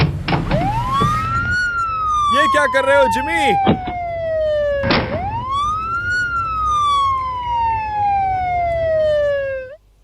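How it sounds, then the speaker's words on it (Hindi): A megaphone's wailing siren sweeps up and down loudly, twice, with a brief burst of chatter and a voice speaking in between. "मैं अब इस मेगाफोन का सायरन ऑन करके इसे अंदर फेंक दूंगा"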